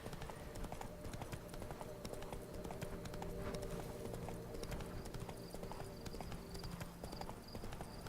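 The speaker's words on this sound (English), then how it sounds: "riding a horse through this countryside in the middle of the night" Horse hooves clip-clop in steady rhythm while riding through countryside at night in The Witcher 3: The Wild Hunt, a continuous, fairly quiet patter of hoofbeats under a faint ambient music bed.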